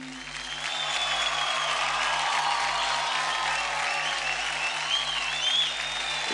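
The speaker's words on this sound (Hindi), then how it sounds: "जोरदार ताली हो जाए" A studio audience at a televised dance competition applauds loudly and steadily for several seconds, a dense wash of clapping and cheering with a low rhythmic music pulse running beneath it.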